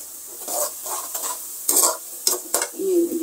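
Onion and ginger fry in a pan for aloo gobi, a close sizzle broken by several sharp bursts of stirring and scraping with a utensil.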